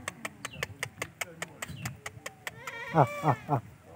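Goats bleat in a few short bursts near the end, over a rhythmic ticking and background murmur of voices.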